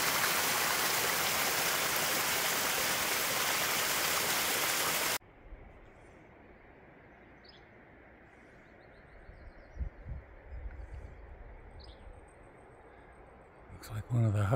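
A steep mountain creek rushes loudly and steadily in a close, full roar for about five seconds, then drops to a softer, more distant flow with faint footsteps and light handling noises.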